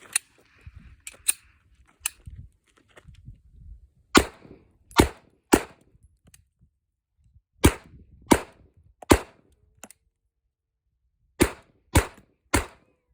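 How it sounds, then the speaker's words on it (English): An HK rifle fires MagTech 124-grain soft point rounds, sharp loud cracks arriving singly and in quick pairs and triples, with brief handling clatter between the first shots. "I'm going to take those soft point rounds and run them through the HK"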